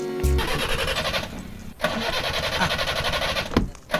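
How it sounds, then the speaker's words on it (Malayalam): A car engine cranks and fires up, sputtering through several uneven bursts and brief stalls rather than settling into a smooth idle, heard up close. "എഞ്ചിൻ നടക്കുന്നുണ്ടോ എന്ന് ചെവിയോർത്ത് നോക്കിയാലേ അറിയാൻ പറ്റത്തുള്ളൂ"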